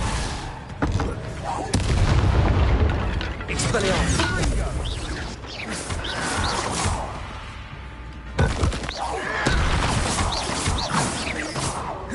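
Confringo spell explosions in Hogwarts Legacy on PS5, loud crashing blasts with heavy low rumble, one around two seconds in and another near eight and a half seconds, set among game combat noise and some voices.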